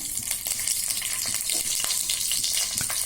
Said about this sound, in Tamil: ஒரே ஒரு பச்சை மிளகாய் கீறி வச்சுருக்கேன், அது சேர்க்குறேன்